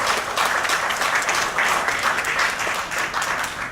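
An audience applauds Professor Ramlah Adam after a cultural lecture in Malaysia, producing loud, continuous clapping that swells and ebbs slightly but stays full throughout.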